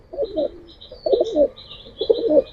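A young female pigeon coos in three clear, close bursts of rolling low notes, each about half a second long, with faint bird chirps above and no talking.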